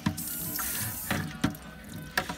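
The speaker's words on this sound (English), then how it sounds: "Just use that little drip off the hose." Water dripping from a hose onto a gastropod fossil, with a faint steady trickle broken by a few distinct drip impacts spaced about every second, close and fairly quiet.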